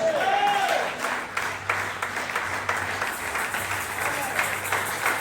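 A church congregation applauds and cheers for Jesus, a continuous crowd of clapping at moderate volume throughout, with a voice speaking over it.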